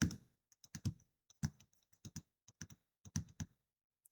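Typing on a computer keyboard: irregular bursts of crisp key clicks in quick clusters with short pauses between, close and clear with no talking.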